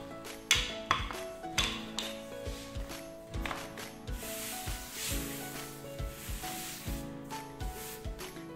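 Cinnamon roll dough being rolled out long on a surface, soft repeated rubbing and sliding strokes with light knocks of the rolling pin, quiet and close, no talking.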